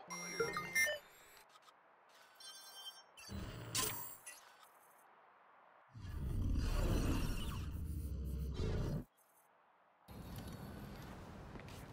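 Watch Dogs 2 hacking effects play as a string of electronic beeps, bleeps and glitchy digital bursts in separate segments, broken by short quiet gaps and one longer, denser noisy stretch.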